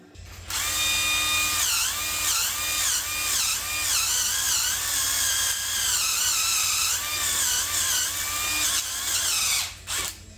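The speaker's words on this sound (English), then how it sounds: "So the wire wheel hopefully will help us out a bit." A wire wheel spun by a drill scrubs rusty bolt threads on a Hyundai Santa Fe during wheel bearing work, giving a steady close whine that rises and falls as pressure changes, with no talking.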